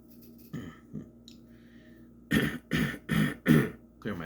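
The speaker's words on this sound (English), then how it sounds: "Clear my throat." A person nearby clears their throat in four rough, rhythmic bursts, after a few quieter scattered noises.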